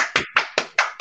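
Five sharp, evenly spaced hand claps ring out close and loud, a slow steady beat with brief decays between them.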